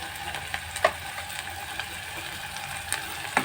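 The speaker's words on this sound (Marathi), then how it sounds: "आपण चांगले परतून घेऊया." Ginger garlic paste frying and being stirred in a pan for shev bhaji, a soft steady sizzle with a few light clicks and scrapes, close and fairly quiet.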